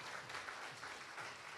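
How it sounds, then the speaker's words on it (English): An audience applauding competitors at the UK Barista Championship 2025 finals, a dense, steady wash of clapping from a crowd, heard alone for a brief moment. "So can we just get a massive round of applause for all of our competitors?"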